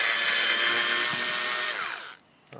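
A screw comes out from behind the rear door trim of a Lexus RX330/RX350/RX400h with a loud, continuous buzzing whir for about two seconds, then stops abruptly into near silence.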